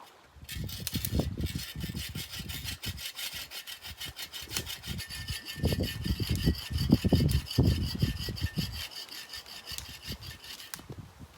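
Steady back-and-forth strokes of a hand saw cutting firewood, rhythmic and close, with a short pause midway before the sawing resumes, outdoors on a fall canoe trip.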